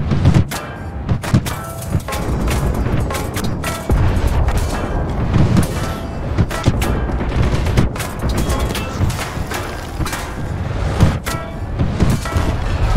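Tank cannon fire and shell impacts on an enemy turret in War Thunder form a loud, continuous barrage of booms, thuds and gunfire, with repeated heavy hits over a dense battle din.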